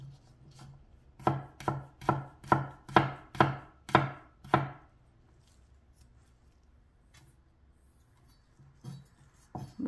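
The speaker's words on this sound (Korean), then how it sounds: "편으로 썰어서" Knife slicing food into thin pieces on a cutting board, about eight crisp, evenly spaced chops in quick rhythm, close and clear, followed by quiet and a few faint taps at the end.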